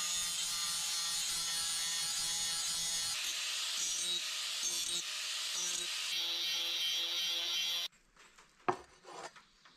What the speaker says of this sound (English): I'm gonna try to taper this edge off on the top where we'd be scraping stuff.